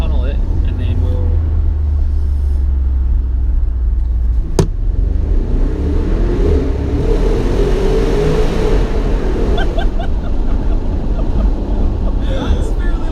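A Bentley Bentayga in sport mode accelerates through a tunnel, its engine a loud, steady low roar that swells and echoes for the whole stretch, with people talking over it.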